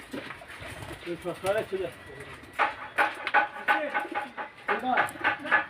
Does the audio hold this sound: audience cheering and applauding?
no